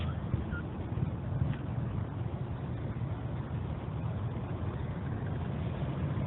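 A 1948 Harley-Davidson EL Panhead motorcycle rides by on a street. Its engine gives a steady, muffled low rumble at moderate level with no clear rise or fall.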